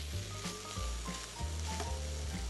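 Chicken gyro meat reheating in a frying pan sizzles loudly and continuously up close, with a bright hiss and crackle running throughout and a low hum beneath it.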